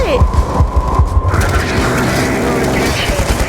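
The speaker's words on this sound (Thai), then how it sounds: "ไปไปต้องให้มันระเบิด ให้มันระเบิด" Explosion in the video game Call of Duty Black Ops 2, a loud booming blast layered with bursts of gunfire and rumbling battle noise, continuous and close throughout.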